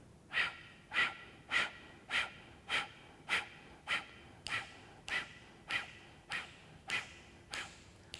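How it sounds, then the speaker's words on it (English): Rapid, forceful yoga breaths pushed out through the nose and pumped from the belly in a steady rhythm, about fourteen sharp exhalations, close and clear with no talking. "Gently blow your nose, pump your breath through the belly"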